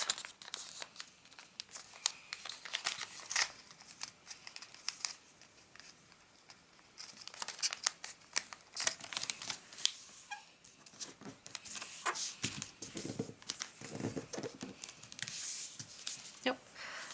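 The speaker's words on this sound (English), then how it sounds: "Then what you're going to do is fold the whole model in half." Paper for an origami seal model is folded and creased close up, with soft crinkling and rustling that comes and goes in steady bursts, faint and unaccompanied by talk.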